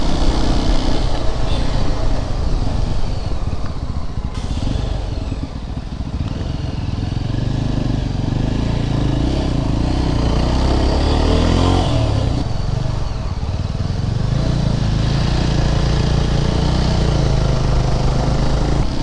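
Motorcycles riding on a hill road to Valparai: a loud, continuous engine drone with shifting revs and wind rush, close to the listener, sustained throughout.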